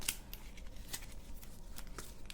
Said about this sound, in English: Now it's the same Automa deck as the base game, so I have these shuffled